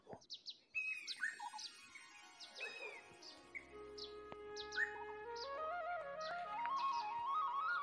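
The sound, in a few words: birds chirping in the morning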